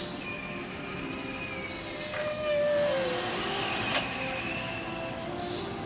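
A train pulled into a junction, heard as a faint, steady rolling rumble with thin tonal squeals drifting in and out and a brief louder swell near the middle.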